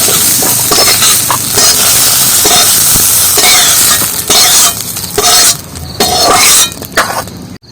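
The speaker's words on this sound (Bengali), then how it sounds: "এখানে কিন্তু পেঁয়াজ আর রসুন আর লঙ্কাটা ভেজে নিচ্ছি" Onion, garlic and chili fry in hot oil in a pan, a loud continuous sizzle with stirring scrapes and clinks close up, alone without talk.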